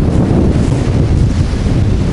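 Storm on the Black Sea coast at Adler, Sochi: a loud, steady roar of strong gusting wind buffeting the microphone over crashing surf and big waves, continuous and close with no pauses.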